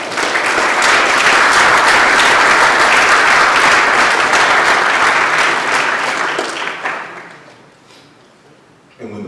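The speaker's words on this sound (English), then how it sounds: "So go ahead and applaud yourself." A symposium audience applauds for themselves, a dense, steady wash of clapping that holds loud for several seconds before thinning out and fading toward the end.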